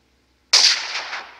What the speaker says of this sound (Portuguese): Acho que mais um tiro eu mato ele